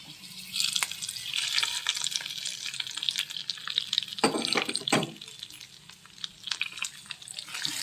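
Hot tempering is poured into a pot of pongal, making a wet splashing, bubbling sizzle that surges in the middle and then settles into scattered drips and stirring, with no voice.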